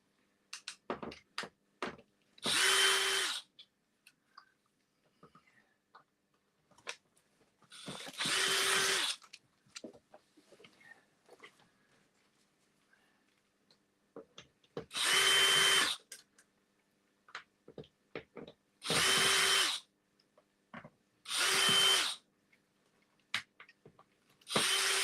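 Power drill driving a long row of screws into a workshop panel, five loud bursts of a couple of seconds each, separated by quieter gaps with light clicks and handling noises.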